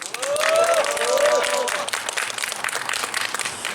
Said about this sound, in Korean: 큰 박수로 정치 버스킹 시작하면 좋겠습니다